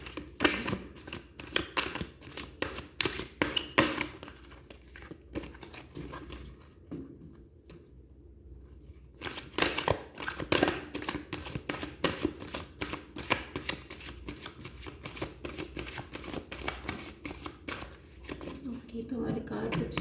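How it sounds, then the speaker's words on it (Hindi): Tarot cards shuffled by hand in a steady run of soft riffling flutters and taps, with a brief pause midway before the shuffling resumes, close and quiet. "तो हमारे कार्ड्स अच्छे शफल हो चुके हैं।"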